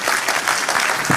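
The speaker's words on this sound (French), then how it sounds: "Donc on applaudit Geert qui va nous parler de la programmation émotionnelle" Brief burst of audience clapping welcoming a keynote speaker on emotional programming, dense and continuous across the whole moment.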